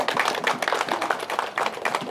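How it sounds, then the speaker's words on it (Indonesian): Audience applause rings out at an Indonesian political gathering: dense, steady clapping from a crowd that runs unbroken for the full couple of seconds with no voice over it. "Tepuk tangan dulu."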